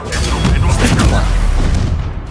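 Fiery Confringo spell blasts in Hogwarts Legacy on PS5, a dense rumbling burst of booming impacts and crackle that stays loud for the whole stretch, with combat voices shouting over it.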